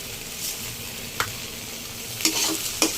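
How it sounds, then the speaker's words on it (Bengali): Spice paste with turmeric, chilli powder and a little sugar fried and stirred in a pan: soft steady sizzle under a few sharp spatula scrapes and clacks, the busiest strokes near the end. "এবার এটাকে একটু কষিয়ে নেবো"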